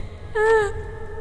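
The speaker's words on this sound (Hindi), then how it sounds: "रात के तकरीबन 2:30 बजे अचानक बाहर से रोने की आवाज आई।" Woman's wail of pain as a horror sound effect, a single drawn-out moaning cry that rises and then fades, heard alone against a low murmur.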